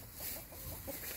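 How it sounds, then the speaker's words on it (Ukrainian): Hens with their newly hatched chicks cluck faintly outdoors in a rural farmyard, with soft, scattered calls over a quiet background. "Курчатка, які вивелись у мене саме з цих курочок."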